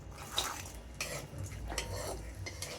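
Raisins being sautéed in about a teaspoon or so of ghee in a pan while making makhana dry fruit ladoo, with soft continuous stirring scrapes and light sizzling, a few sharper utensil clinks against the pan.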